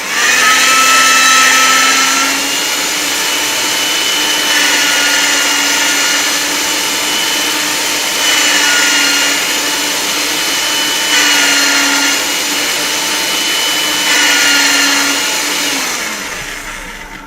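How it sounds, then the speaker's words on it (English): A pasta machine rolling polymer clay through on a thin setting. It gives a loud, steady motorized whir for about sixteen seconds, with a low hum that pulses faintly every few seconds, and then it stops. "Let me get the pasta machine a couple times."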